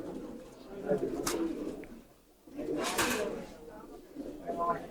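Hammer pigeons coo at a pigeon shop in soft, low, rolling calls, with a couple of louder bursts of coos and flutter-like noise. Voices murmur nearby underneath.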